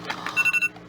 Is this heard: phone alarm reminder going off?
yes